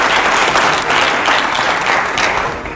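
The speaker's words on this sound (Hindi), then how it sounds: "जोरदार तालियां हो जाए पहले तो" An audience in a debate-style studio show bursts into sustained loud applause, dense clapping that holds steady and fades slightly at the end.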